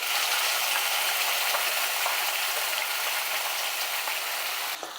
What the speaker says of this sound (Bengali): এবার টমেটো আদা কাঁচা লঙ্কা তেলের উপর দেওয়ার পর আমি ফোড়নের সাথে খুব ভালো করে একটু রান্না করে নিচ্ছি